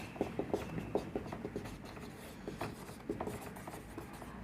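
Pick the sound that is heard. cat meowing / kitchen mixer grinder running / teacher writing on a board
teacher writing on a board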